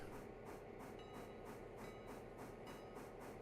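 A freight train hauling 3500 tons of coal rolls along the railroad, its wheels beating out a steady, even clickety-clack rhythm over a continuous rumble, fairly quiet and heard alone.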